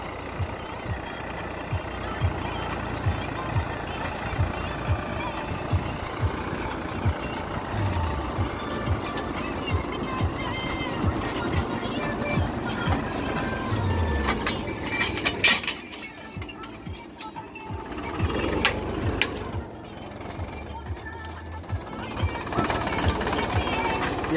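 A Mahindra 265 DI tractor with an inline pump runs while sowing guar in a field, its engine rumbling steadily throughout while someone talks over it.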